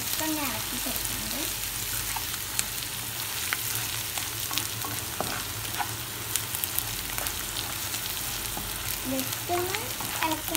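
Garlic sizzles in hot oil in a pan for Kerala-style king fish curry, a steady close crackle running the whole time with scattered sharp clicks and scrapes from stirring, plus a few faint voice-like murmurs in the background.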